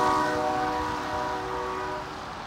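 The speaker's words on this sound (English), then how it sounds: "I'll show you guys the train as they come by" Southbound freight train GMTX 333 with empty cars approaches at Vodden Street on a snowy day, its horn sounding as a steady, loud, tonal blast that fades slightly over the rumble of the passing cars, with no talking.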